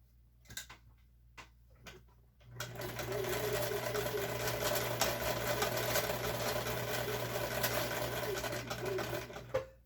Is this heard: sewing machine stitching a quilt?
yes